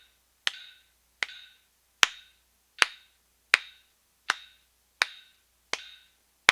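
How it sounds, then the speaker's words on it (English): Hand claps land in steady time with a metronome during a trumpet lesson, nine sharp, evenly spaced hits about three-quarters of a second apart, each with a short ringing tail, close and fairly quiet with nothing else around them. "add a clap to see if you can clap along with the metronome"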